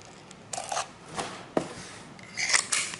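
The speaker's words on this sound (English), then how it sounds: "let's use our Ghost Strike to cut this" Ghost Strike knife slicing open a package, with several short scraping cuts and rustling of cardboard and plastic, close and fairly quiet.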